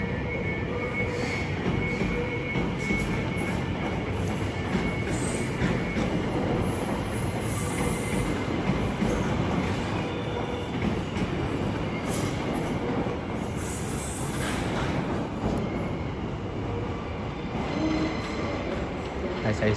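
A London Overground class 710 electric train, unit 710-125, pulls out of a London terminus bound for Chingford, its wheels squealing and rumbling steadily over the rails in a continuous, fairly close run.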